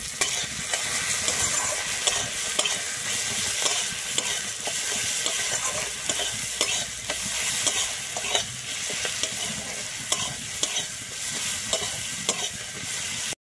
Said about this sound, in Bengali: দিয়ে আমি টমেটোটাকে ভালোভাবে ভেজে নেব।